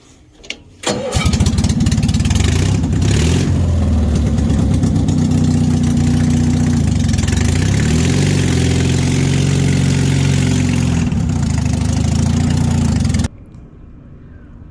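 A Cushman utility vehicle engine cranks and catches, then settles into a loud, steady idle that runs for about twelve seconds before cutting off abruptly.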